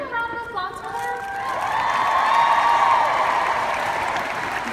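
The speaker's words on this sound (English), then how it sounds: "Can we get a round of applause for" An audience applauds at the One2017 event, with steady clapping swelling to a dense peak and a few cheering voices and whoops riding on top before the clapping eases slightly.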